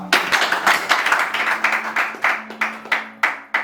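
An audience claps at a church concert in quick, uneven bursts, loud and close, the separate hand claps easy to pick out while a low steady tone hums underneath.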